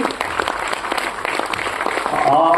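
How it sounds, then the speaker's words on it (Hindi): A workshop audience claps steadily to welcome mentors onto the stage, with dense applause that swells slightly toward the end while a host speaks over it. "जोरदार तालियों से स्वागत करेंगे"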